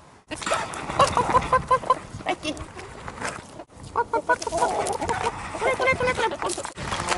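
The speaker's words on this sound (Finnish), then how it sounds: "Kanoja." Chickens cluck and squawk in short bursts, several birds close by and fairly loud, with a brief pause midway.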